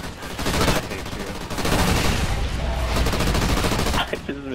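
Rapid bursts of light machine gun fire from Call of Duty Ghosts Extinction pound away loudly and almost without pause for several seconds, then cut off near the end.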